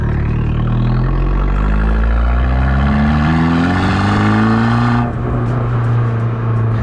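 A Fiat Abarth 695 Tributo Ferrari's engine revs hard and close, its pitch climbing steadily through a long pull before it eases off suddenly and settles to a lower, rougher drone.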